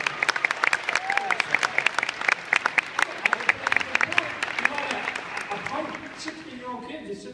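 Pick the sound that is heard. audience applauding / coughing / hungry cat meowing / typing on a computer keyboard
audience applauding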